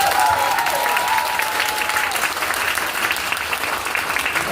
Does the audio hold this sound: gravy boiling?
no